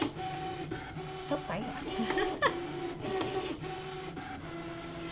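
A Brother ScanNCut machine draws a seam allowance line on fabric with a continuous whirring motor and small mechanical clicks and shifts. A person speaks briefly over the machine.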